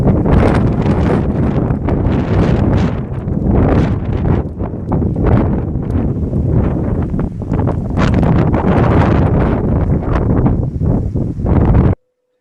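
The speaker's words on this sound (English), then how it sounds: "So super windy." Strong gusty wind buffets an outdoor microphone during landscape photography, a loud continuous low rumbling roar with surging gusts that cuts off abruptly at the end.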